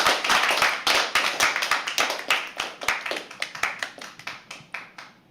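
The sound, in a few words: audience clapping at poetry open mic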